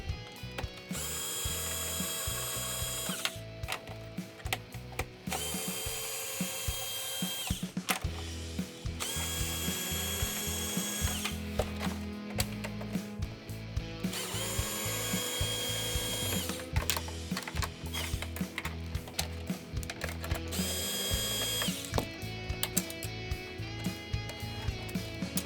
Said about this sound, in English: You have 8 screws to remove.